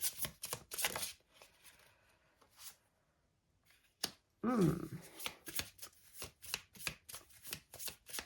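Playing cards from a Belline oracle deck are shuffled during a card reading, with repeated crisp riffling bursts close up, separated by a quiet pause and a short squeak.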